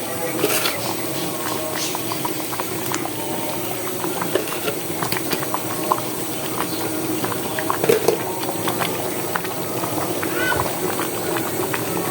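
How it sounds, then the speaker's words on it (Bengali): Pot of pilaf (polao) rice coming to a boil on a stovetop, giving a steady bubbling, hissing simmer with faint patter throughout, close and continuous. "এ চুলায় আমার পোলাওটা বলক চলে আসছে"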